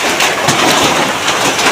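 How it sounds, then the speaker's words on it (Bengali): Heavy hail pours down during a storm over a rural area near jute fields, making a dense, loud, continuous clatter and roar with scattered sharper impacts throughout. "প্রচুর শিল, প্রচুর শিল।"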